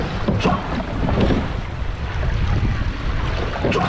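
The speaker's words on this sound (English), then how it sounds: "quiet rowing" A men's eight rowing shell glides on open water, with rhythmic splashing strokes and rushing hull and wind noise close to the mic, steady and loud throughout with no clear voices.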